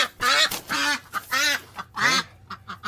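A duck quacks loudly and close by, a run of five or six nasal, rasping calls in uneven rhythm with short pauses between them, heard on their own without talk.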